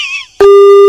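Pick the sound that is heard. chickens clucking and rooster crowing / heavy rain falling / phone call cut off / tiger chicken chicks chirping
phone call cut off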